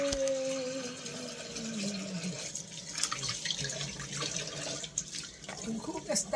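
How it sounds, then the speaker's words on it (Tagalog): Tap water runs into a sink during dishwashing, a steady splashing stream with clinks and drips, while a person talks over it. "Mag-ugas tayo, guys, ng pinggan."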